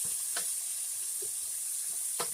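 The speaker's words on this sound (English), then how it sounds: "Now, we just sauteing it." Vegetables sautéing in a pan with a little adobo seasoning. A quiet, steady sizzle is broken by a few soft stirring scrapes.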